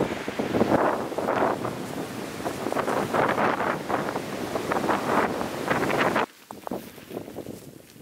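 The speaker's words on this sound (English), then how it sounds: "It's wind." Cold wind buffets the microphone on a high Appalachian Trail mountain section, a loud, rough, continuous roar with gusting surges that drop off abruptly near the end, leaving quieter rustle.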